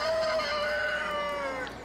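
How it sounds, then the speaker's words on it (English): Rooster in the video game Divinity: Original Sin, giving a single loud, drawn-out crowing call up close that tapers off near the end. "Rooster says, cluck, cluck."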